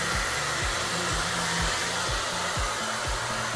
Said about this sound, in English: Oh, blow dryer.